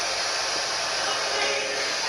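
A spirit box radio scans FM stations, producing a continuous, loud wash of hissing static throughout with no voices heard.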